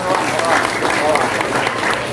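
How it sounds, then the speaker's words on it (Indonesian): Audience applause at an outdoor religious lecture by a preacher in Subulussalam, Indonesia, a steady wash of many hands clapping that fills the clip at an even level, with a murmur of voices mixed in. "Jadi bunyi tepuk tangannya, tepuk tangan orang kepanasan."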